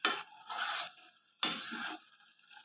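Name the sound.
stirring raw coconut sweet mixture in pan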